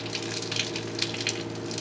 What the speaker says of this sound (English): For some reason the water's running.